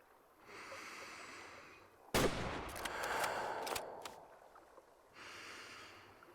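A hunting rifle fires in the video game Way of the Hunter 2, one sharp nearby shot followed by a rolling echo that fades over a couple of seconds. A faint hiss of breath sits before and after it, and no one speaks.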